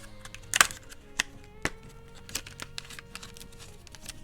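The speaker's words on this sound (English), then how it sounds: "now these need a hole punched in them" A hand hole punch bites through tiny inked paper envelopes, giving several sharp, separate clicks spaced irregularly over a faint background, close and fairly quiet.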